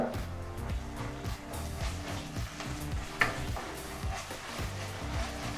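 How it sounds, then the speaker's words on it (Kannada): Ginger garlic paste frying with onions in a pan, a steady close sizzle with occasional stirring scrapes and clinks throughout, no talking. "ಶುಂಠಿ ಬೆಳ್ಳುಳ್ಳಿ ಪೇಸ್ಟು ಸಹ ಹಸಿ ವಾಸನೆ ಹೋಗೋವರೆಗೂ ನಾವು ಹುರ್ಕೋಬೇಕಾಗತ್ತೆ"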